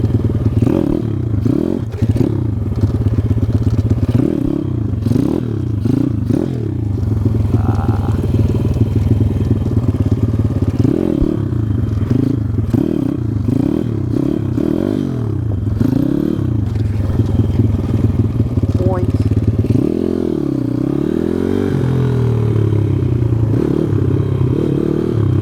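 A road-legal pit bike engine revs hard through repeated first-gear wheelies, rising and falling in pitch over and over, loud and close throughout with rattling and scraping mixed in.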